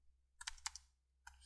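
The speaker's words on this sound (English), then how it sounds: "I'm going to go ahead and type in Kali Live" Keys clatter on a computer keyboard in two quick bursts of close, quiet clicks separated by a short pause, in a calm, otherwise silent room.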